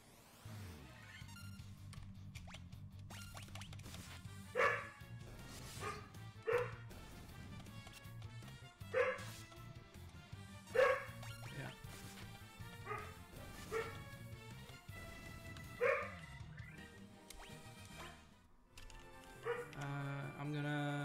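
A pet dog barks and yips repeatedly at irregular intervals, fairly quiet and somewhat distant, over a steady low background hum.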